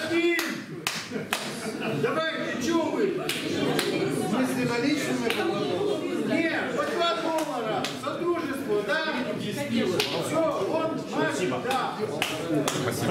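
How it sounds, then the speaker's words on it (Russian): Audience applause at a beekeeping conference in Kherson, a dense run of clapping hands that carries on steadily for several seconds, mixed with some talk. "Давайте поаплодируем."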